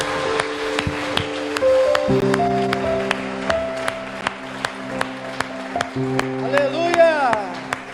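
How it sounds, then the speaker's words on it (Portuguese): A church congregation claps during an online worship service, with rhythmic, evenly spaced claps over sustained organ or keyboard chords and a sung voice rising near the end. "Vamos aplaudir o nosso Deus."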